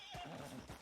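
Horse in Red Dead Redemption 2 gives a short, close whinny lasting under a second, with faint hoof clip-clop beneath it.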